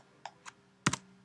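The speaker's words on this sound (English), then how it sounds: "Miss Pipitone has a typing example, typing error." Typing on a computer keyboard to fix an error: two light keystrokes followed by a quick, louder double clack, close and clear against a quiet background with a faint hum.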